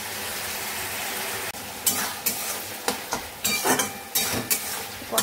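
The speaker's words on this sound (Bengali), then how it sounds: "এখন আস্তে আস্তে ভালো করে কষিয়ে নেব।" Masala sautéing and being stirred in a pan for a Bengali home lunch, with a steady sizzle of frying broken by repeated scraping strokes of a spoon against the pan, close and fairly loud.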